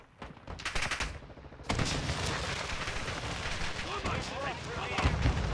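A light machine gun fires in the Call of Duty Modern Warfare II beta in rapid automatic bursts, a short one at the start and then sustained fire with layered in-game effects. A voice talks over part of it.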